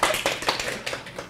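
A church congregation claps in a short, loud burst of hand claps during a Korean Baptist sermon, close and uneven, lasting about a second.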